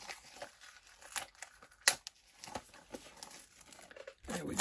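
Plastic wrapping is torn and crinkled off a Blu-ray slipcover by teeth, giving a string of short crackly rips and crinkles with a louder burst near the end.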